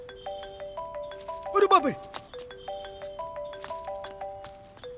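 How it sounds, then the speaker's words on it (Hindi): A melodic electronic ringtone plays a repeating tinny tune in a steady loop, with a brief startled voice exclaiming over it midway. "वाह, क्या रिंगटोन लगाई है तूने?"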